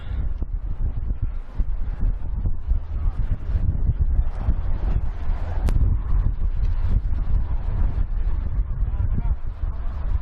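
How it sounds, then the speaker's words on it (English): Steady, heavy wind buffeting the microphone with low rumbling gusts on open Ilkley Moor, constant throughout, while a person talks over it outdoors. "It's really quite windy up here."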